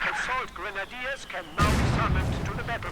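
In the video game Company of Heroes 2, a Granatenwerfer mortar round lands with a sudden heavy blast and rumbling aftermath, following and then under a commentator's talk.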